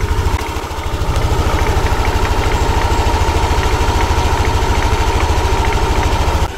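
A Yamaha Aerox scooter idles after a cold start with the mic held close to its CVT, giving a steady, loud, rapid low engine pulse overlaid with a constant whirring and rattling drone throughout.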